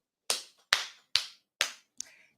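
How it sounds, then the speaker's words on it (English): Four sharp, loud hand claps in slow, even succession, followed by a fifth lighter, quicker clap, made up close with nothing else sounding between them. "I want to do a black girl clap"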